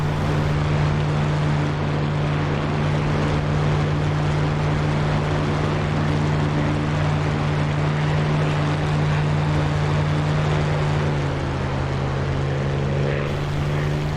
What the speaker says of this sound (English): Throttling right back to lose some speed.